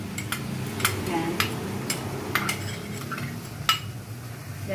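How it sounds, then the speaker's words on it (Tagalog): A utensil stirs carrots in a pan for Filipino-style spaghetti, giving a soft bed of scraping and sizzle broken by several sharp metallic clinks of spoon against pan at irregular intervals, close up, with no talking. "Then haluin."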